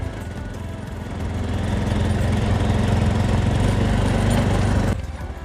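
Motorcycle engine running steadily in low gear on a rough mountain road, a continuous loud droning rumble that swells slightly midway and then drops abruptly near the end, close up, with no talking.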